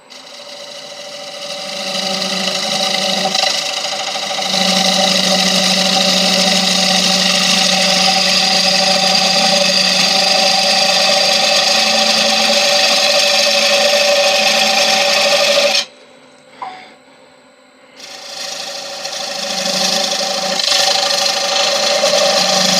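Lathe hollowing a cracked holly wood bowl, with a continuous loud scraping hiss of the gouge over the spinning wood and a steady motor hum, broken by a short pause before the cutting starts again.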